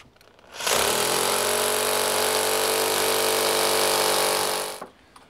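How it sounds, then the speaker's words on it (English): A rotary hammer drilling into brick: a loud, continuous drone starts abruptly, holds steady for about four seconds, then cuts off, with no voices. "And now we need a rotary hammer."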